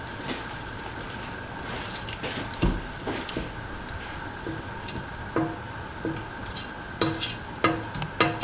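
Repeated scraping and clinking of a utensil stirring a spinach, potato and coconut milk mixture in a pan, irregular taps and strokes close by over a faint steady background hum.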